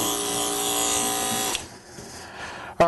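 Electric clippers fitted with a snap-on comb buzz steadily while trimming a Pomeranian's coat, then cut off midway, leaving quiet before a brief clatter at the end.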